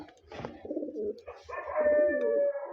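Caged pigeons coo nearby at feeding time in soft, throaty, rolling calls that overlap and repeat, with a faint whistling tone near the end.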